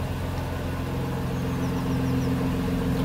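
Car engine idling on tickover through a newly modified DIY exhaust system, a steady low rumbling drone with a slightly deeper note, close and continuous throughout with no talking.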